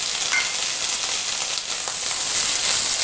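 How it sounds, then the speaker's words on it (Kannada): Bitter gourd frying in half a spoon of oil in a pan, browning with a steady, loud hiss and sizzle and no one talking. "ಈ ಬಾಣಲೆಗೆ ಒಂದು ಅರ್ಧ ಸ್ಪೂನ್ ಎಣ್ಣೆ ಹಾಕ್ಬಿಟ್ಟು ಇದನ್ನು ಸ್ವಲ್ಪ ಬ್ರೌನಾಗಿ ಹುರ್ಕೊಳ್ಳೋಣ."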